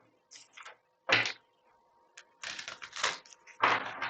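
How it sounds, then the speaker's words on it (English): Tarot cards are shuffled up close in several quick bursts of riffling and snapping, with short quiet gaps between the rapid clattering flurries. "Let me just do one more shuffle."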